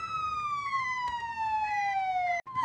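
An ambulance siren wails steadily and loudly, its tone sliding slowly downward in a continuous sweep, cutting out briefly near the end before resuming.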